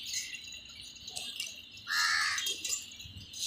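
Crows cawing while being fed alongside pigeons outdoors, several harsh caws in quick bursts, one loud and close call standing out over quieter calls and background noise.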